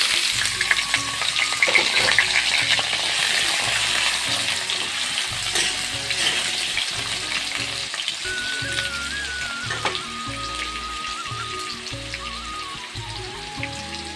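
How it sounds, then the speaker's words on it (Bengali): Potatoes fry in hot oil in a wok with a loud, continuous crackling sizzle that fades slightly over time. A faint tonal whine runs underneath, and no one speaks. "তেল গরম হয়ে গেছে, এখন আলুগুলো দিয়ে দেব।"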